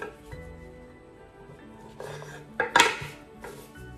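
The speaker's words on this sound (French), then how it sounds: "Là, je vais venir les couper en deux, tout simplement." Tomatoes halved with a knife on a board, a few sharp knocks and clinks of blade and dishes close by, clustered near the end after a quieter stretch.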